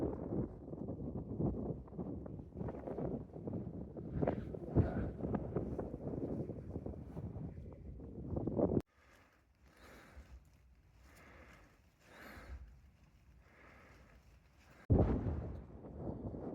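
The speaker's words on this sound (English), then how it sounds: "hopefully you can hear me above the wind, which from a little breeze has stepped up a bit" Strong wind gusts roar and buffet against the microphone at a wild camping spot with ponies nearby, loud rushing bursts broken by a quieter stretch of softer, fluttering wind before the heavy buffeting returns.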